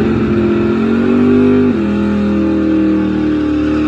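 A Mopar muscle car accelerates hard at a night drag race, its loud engine roar climbing steadily and shifting gear partway through, close and continuous with no voices.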